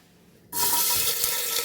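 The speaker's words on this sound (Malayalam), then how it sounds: "ഇഞ്ചി പച്ചമുളക് ഇവിടെ പൊട്ടിത്തെറിക്കുന്നുണ്ട്" Ginger and green chili spluttering in hot coconut oil, a Kerala beef curry base, burst in abruptly with a loud, steady hiss and crackle that holds close and continuous to the end.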